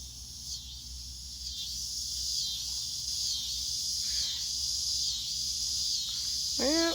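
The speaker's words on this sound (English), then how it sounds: "You can really hear the cicadas pretty loud tonight." Cicadas drone at night in a continuous, high-pitched buzzing chorus that stays fairly even throughout. A brief sharp rising cry breaks in at the very end.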